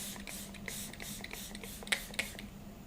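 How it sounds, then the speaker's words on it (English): A dewy, hydrating makeup setting spray misted in a string of quick, soft hissing bursts, close and fairly quiet. "This one is the Grip on Lock setting spray, but it's dewy, it's hydrating."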